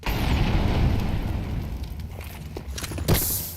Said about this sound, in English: there's the running through the Molotov, there's a nade out